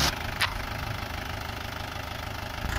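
A Mahindra 575 DI XP Plus tractor engine runs steadily in a low, continuous rumble with a slight knocking pulse, close by and alone, with a brief hiss near the start.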